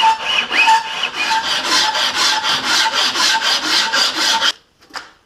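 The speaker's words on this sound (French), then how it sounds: "Et là, on peut limer." A hand file rasps steadily along the bevel edge of a knife made from an old file, a dozen or so loud, even back-and-forth strokes up close that stop abruptly, followed by a single faint scrape.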